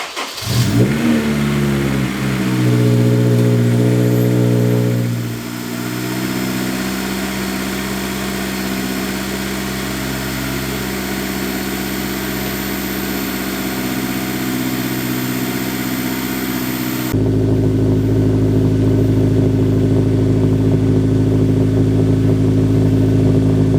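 A car engine cranks, catches and settles into a steady idle after a Moroso weld-in oil pan baffle install, loud and close with a strong low hum, a brief rev near the start and no talk.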